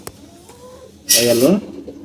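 A gulla pigeon coos softly at first, then a louder burst of throaty cooing rises briefly near the middle while a person talks nearby.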